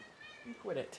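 A pet cat meows once, a short rising and falling cry close to the microphone, right after a person speaks briefly.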